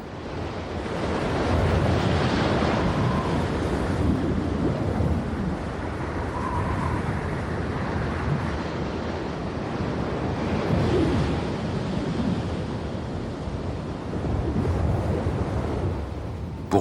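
Strong wind roars steadily over heavy ocean waves off Cape Horn, a dense, continuous rush of surf and gusts with no pauses, loud and close.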